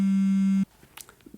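A steady electronic phone tone, used as an audiobook sound effect for a ringing phone in a pocket, holds loud and even for over half a second, then stops abruptly, leaving faint rustles.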